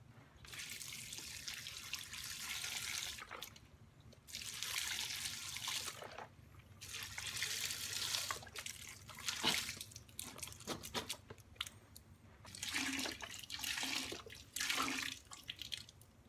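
Beef broth poured from 32-ounce containers into a soup pot, several separate gurgling pours of liquid, each lasting a few seconds with short pauses between, quiet and close.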